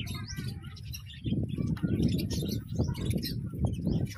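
Lovebirds and finches at a farm aviary, chirping and tweeting in quick bursts, with soft cooing and a flutter of wings, nearby and without talk.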